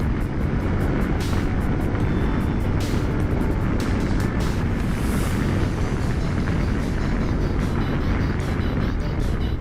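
A Yamaha TDM 900 motorcycle engine on a test ride: a steady, loud broadband roar with wind rush, continuous throughout, with no clear gear-change breaks.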